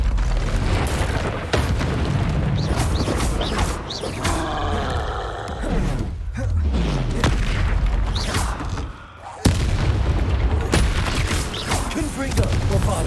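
Spell explosions from Confringo and Bombarda in Hogwarts Legacy during a troll fight, heavy booms and crackling blasts in rapid succession with a short lull, loud and close, with voices shouting over the action.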